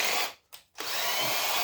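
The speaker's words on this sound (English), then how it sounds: "It helps if I go the right way at the drill." A power drill whirs loudly up close while backing screws out of scrap metal, with a steady whine broken by a brief pause before it spins up again.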